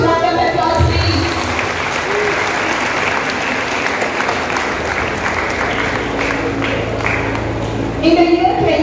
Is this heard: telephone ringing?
no